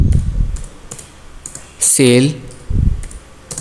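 A few sparse, light clicks of typing on a computer keyboard, heard beneath someone speaking.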